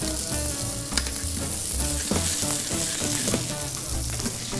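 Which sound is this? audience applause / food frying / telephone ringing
food frying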